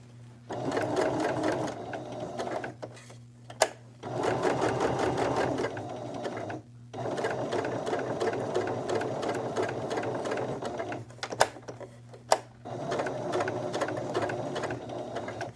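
A sewing machine runs in long steady bursts while a seam is stitched around a curve, stopping briefly between runs as the fabric is pivoted, with a few sharp clicks in the pauses.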